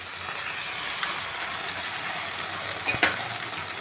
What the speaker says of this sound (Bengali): চিলি পনিরের সাথে মিশিয়ে দিলাম।